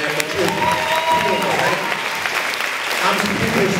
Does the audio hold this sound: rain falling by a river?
no